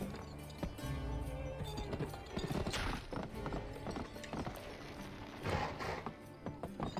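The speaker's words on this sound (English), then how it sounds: "It's so satisfying riding the horses in this game." Hooves clip-clop at a steady galloping rhythm as a horse is ridden in the GameCube western game Gun, fairly quiet, with a few scattered mechanical clicks over a continuous game background.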